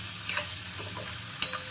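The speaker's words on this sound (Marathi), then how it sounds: "बघा इकडे छान फ्राय होत आहे" Onion, potato and peas for kande pohe fry in a pan with a quiet, steady sizzle and a few light utensil clicks, one louder tap near the end, close and without talking.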